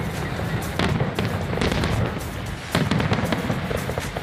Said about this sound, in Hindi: शानदार आतिशबाजी हुई